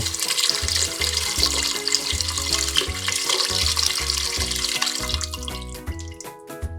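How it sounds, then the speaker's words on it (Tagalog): Water poured through annatto seeds in a kitchen, a steady close trickle and splash running for several seconds with faint clinks, no talking. "sa buto ng atswete ko padadaanin yung tubig, sayang din naman yung kulay nito"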